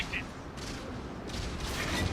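Muffled booms and impacts of gunfire striking a tank in World of Tanks on console, a dense rumbling wash with a few brighter hits, heard amid game noise.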